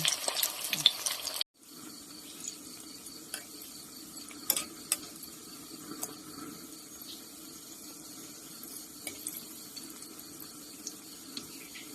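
Batter frying in hot oil like Thai fish cakes, a low steady sizzle after an abrupt cut, with occasional crackles and pops scattered through it, close and fairly quiet.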